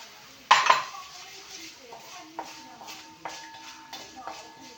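Sesame seeds drop into ghee in a pan while making ilayada, giving a sharp clatter followed by quieter metallic scraping and clinking of a spoon stirring against the pan, with a faint voice nearby.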